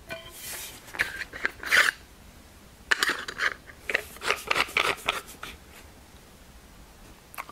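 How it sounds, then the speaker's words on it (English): A metal woodturning gouge being pulled out, turned around and slid back into its drilled-out tool handle, heard as close metallic scrapes, clicks and sliding rattles in short bursts with quiet gaps and no speech. "you can take your gouge out, turn it around, and store that sharp end inside"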